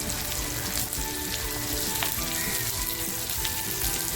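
Green chilli and garlic fry in a pan for a homemade cashew and pea curry, giving a steady, loud sizzle that runs unbroken from start to finish.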